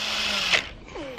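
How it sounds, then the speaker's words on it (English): A short high-pitched whine of a power drill spins up briefly while drilling a hole in a Nissan S13 being stripped, then fades into quieter background noise with a faint rising tone. "you're just drilling that hole."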